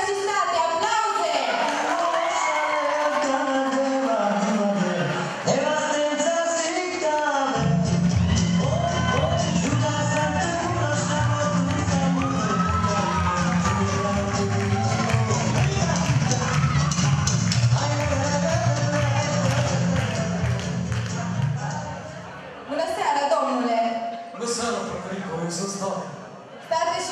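A crowd at a Romanian high school freshmen ball loudly shouts, whoops and cheers as a couple enters the stage, the roar continuous and dense over a low steady backdrop for most of the stretch.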